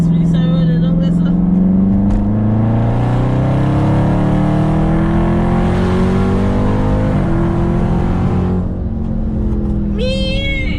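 A Dodge Charger's engine pulls hard at full throttle, its loud, steadily rising roar running almost the whole time before easing near the end, with brief voices at the start and finish.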